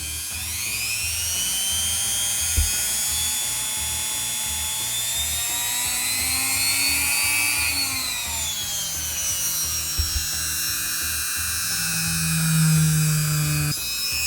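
Dremel rotary tool carving into a pumpkin, a sustained high-pitched whine with pitch rising and sagging as the bit loads, plus occasional knocks, close and steady throughout.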